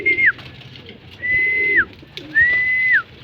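Pigeons at a loft in Bataan give three drawn-out cooing calls with short pauses between them. They sound close and clear, with a faint hum of the surroundings underneath and no speech.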